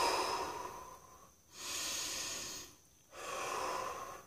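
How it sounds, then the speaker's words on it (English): A person takes slow deep breaths during a calm morning routine, with three long airy exhalations separated by short quiet pauses, close and clear with no speech. "and breathe out."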